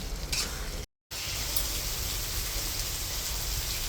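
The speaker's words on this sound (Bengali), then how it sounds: "অনেক সময় কষাইছি এখন তেল ছেড়ে দিতে" Chicken curry sautéing in hot oil in a pan, with a steady, loud, dense sizzle and crackle running throughout and a brief dropout near the start.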